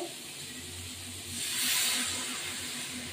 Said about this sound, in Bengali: জল দেওয়ার সাথে সাথে ফুটবে